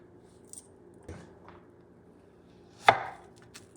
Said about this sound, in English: Then I'm going to slice them.